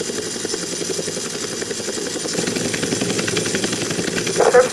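Police helicopter in the video game GTA Vice City, a steady loud rotor thrum and whine that fills the scene, growing a little louder toward the end with a brief sharper burst.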